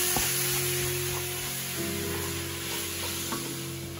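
A pound and a half of ground beef frying in a pan in Santorini, Greece, with a steady close sizzle and occasional scrapes and knocks as it is stirred.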